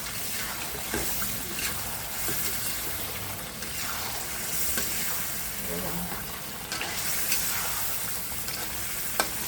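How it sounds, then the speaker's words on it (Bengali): Fish frying in a pan being stirred, with a quiet continuous sizzle and occasional soft scraping of a spatula. "মাছগুলো নেড়ে দিচ্ছি, লেগে যাবে।"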